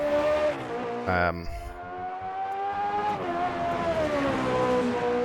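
An old Formula One car engine in the racing game Automobilista 2 whines continuously at high revs, shifting gears with a brief drop and rise in pitch, loud and close.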